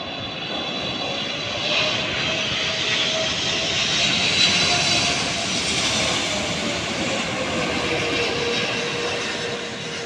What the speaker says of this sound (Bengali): হযরত শাহজালাল আন্তর্জাতিক বিমানবন্দরে বিমানটি ল্যান্ড করছে